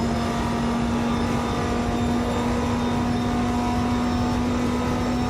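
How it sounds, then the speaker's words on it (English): Race car engine in the video game Project Motor Racing, a steady loud drone with a strong sustained tone and no audible breaks, held alone at near-constant pitch throughout. "The audio of this car sounds incredible by comparison, though."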